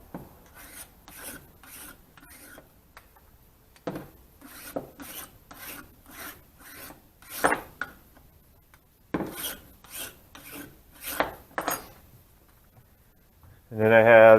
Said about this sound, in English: normally I'll just take the file and try and get any rough edges off